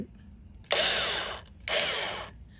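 A cheap drill bit from a $5 set spins against a 2004 Toyota Sienna door without cutting, giving two loud, harsh whirring bursts of about a second each, separated by a brief pause.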